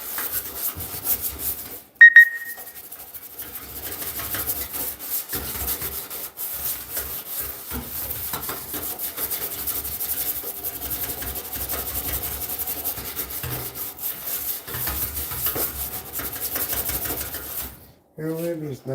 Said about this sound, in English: We just scrub it with this stuff.